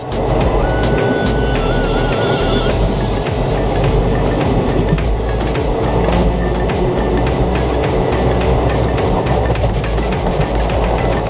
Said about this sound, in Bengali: হাওড়া থেকে 283 কিলোমিটার জার্নি কভার করে ট্রেন চলে এলো তার 20 নম্বর হল্ট আদ্রা জাংশনে